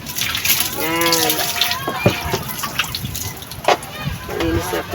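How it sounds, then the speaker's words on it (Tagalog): Water splashes and trickles as a thermos is rinsed in a kitchen, with irregular pouring and dripping sounds mixed with a voice talking close by. "Yan, linisin po natin si termos. Sugas-sugas. Naligo na ang termos."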